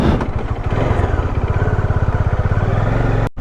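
Bajaj Dominar 400 motorcycle engine runs close by after starting, a loud, rapid, even thumping idle pulse that ends in a sudden cutoff.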